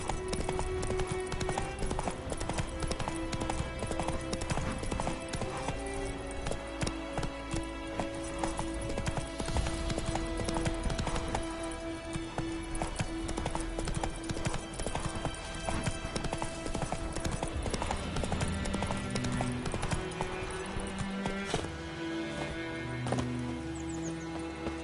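Roach the horse gallops in The Witcher 3, steady rhythmic hoofbeats clopping continuously over a game music bed, with occasional brief snorts.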